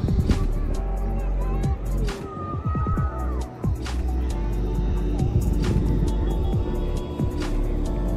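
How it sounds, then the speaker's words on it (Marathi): Steady traffic rumble from vehicles on the road behind Varsova beach at Alibaug, with cars passing now and then, runs throughout under people talking nearby. "मागं गाड्याचा आवाज भरपूर आहे"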